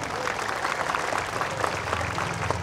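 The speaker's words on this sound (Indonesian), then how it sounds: "terima kasih, tepuk tangan buat semuanya." A crowd applauds steadily at a school ceremony for National Santri Day 2022 in Indonesia, a dense patter of many hands clapping throughout at moderate volume.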